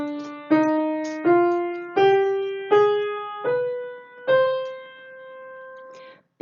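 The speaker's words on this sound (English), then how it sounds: "there's also the minor mode, which sounds like this" Solo piano climbs a slow minor-mode scale, six or seven distinct notes, each struck firmly and left to ring out, with a soft final touch at the end; no voices.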